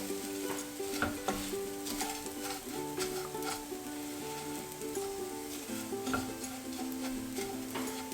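A wooden spoon stirs and tosses butter-soaked panko breadcrumbs in a pan, giving a steady soft sizzle with scraping and light stirring taps throughout, close and fairly quiet, with no speech.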